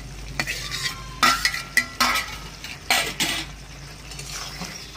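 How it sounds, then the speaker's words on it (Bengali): Fried pointed gourd is stirred into a masala for a potol paneer curry, with bursts of spatula scraping and clinks against the pan over a light sizzle. "এবার ভেজে রাখা পটলগুলো দিয়ে দেবো।"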